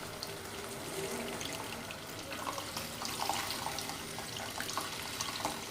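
Tamarind juice poured into a pot of mung dal lentil soup, a steady faint liquid splash and trickle lasting several seconds, with no talking.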